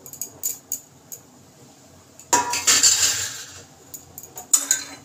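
Fried vegetables tipped into simmering dal and stirred, with a burst of metal spoon clatter against the pot midway and lighter clinks before and after, close by, no talk.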